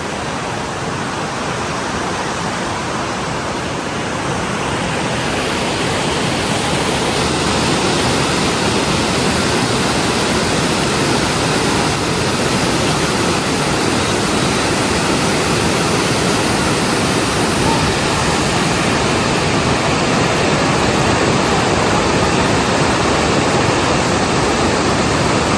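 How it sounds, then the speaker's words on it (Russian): A loud, steady rush of fast-flowing river water in the Spanish Pyrenees fills the whole stretch, constant and unbroken, with no voices. "бежит река, шумит"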